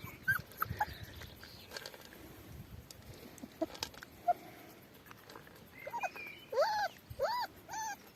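Seven rescued puppies from Crete whimpering outdoors, a scatter of thin, high whines and yips, faint at first and growing more frequent and louder toward the end.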